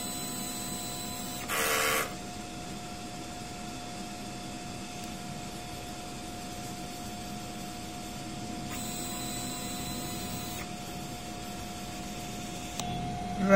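A DTF printer drones steadily with a constant tone, broken by short bursts of louder hissing motor noise as it runs its print-head cleaning cycle.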